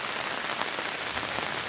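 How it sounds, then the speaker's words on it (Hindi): Heavy rain pours steadily in Kotdwara, a dense, even hiss of drops hitting surfaces with no letup and no voices. "देख रहे हो आप पीछे कितनी बारिश हो रही है।"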